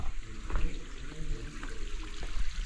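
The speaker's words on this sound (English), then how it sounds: "And I can hear running water down here." Water runs steadily in an underground passage beneath the ruins of Pergamon, a continuous rushing wash with a few faint knocks over it, moderately loud and unbroken throughout.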